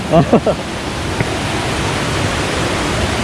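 River stream flowing near a waterfall on a trek to Curug Cikawah in Pamijahan, Bogor, a broad, steady rushing wash of water with a few brief voices at the start.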